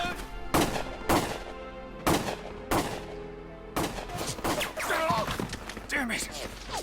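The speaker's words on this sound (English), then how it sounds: "Look at them shooting that." Gunfire from soldiers in the video game Valkyria Chronicles: a few sharp bursts of shots spaced about a second apart, then a busier stretch of overlapping sounds and excited voices.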